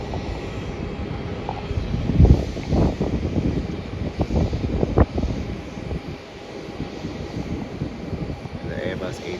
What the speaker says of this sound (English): it's a Virgin Australia Boeing 737